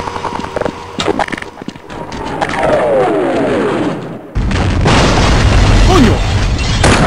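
Booming tank cannon shots and gunfire in Half-Life, with a descending whistle before a loud sustained blast. Excited voices talk over the action.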